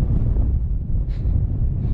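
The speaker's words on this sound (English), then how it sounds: "This hill behind me here is taking the worst of the wind. And the occasional gust is passing through" A gust of wind buffets the microphone at a hillside campsite sheltered by a hill, giving a low, rumbling roar that swells and ebbs briefly.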